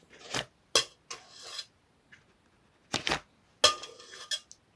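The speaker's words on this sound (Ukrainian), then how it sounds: "Добавляємо до згущенки масло." A few separate scraping, clinking knocks of utensils against a bowl as softened butter is added to condensed milk, close and crisp, with short silences between them.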